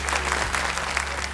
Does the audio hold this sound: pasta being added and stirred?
no